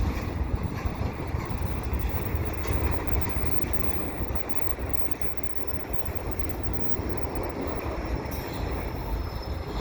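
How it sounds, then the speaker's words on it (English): A commuter passenger train of bilevel cars pushed by an F59PH locomotive on a Canadian Pacific line rolls by in the distance, a steady continuous rumble of wheels on rail lasting throughout with no voices. "So there's a commuter train now, right in the back."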